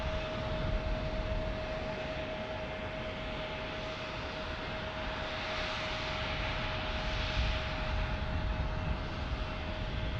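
A Gulfstream business jet passes at San Diego airport as a fairly faint, even engine rush with a steady tonal whine, alone and without voices.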